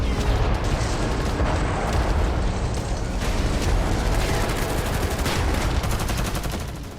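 Bursts of gunfire from an ambush on Israeli troops in the streets of Gaza, with loud, dense, continuous shots and rattling that keep going without a pause.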